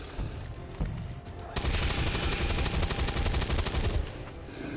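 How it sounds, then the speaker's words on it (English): Rapid automatic gunfire from XCOM 2 soldiers shooting at a target, a steady stuttering burst lasting a couple of seconds after quieter game ambience, loud and close. "Let's just shoot at it from here."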